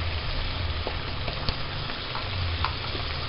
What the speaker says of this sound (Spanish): Y ahora en este momento vamos a agregar los guajes